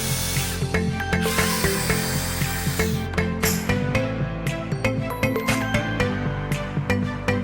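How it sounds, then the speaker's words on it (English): Tool boring a hole for a screw through a belt for a homemade web shooter, a close, steady grinding rasp with rhythmic repeated strokes and no talk. "making hole to put the screw"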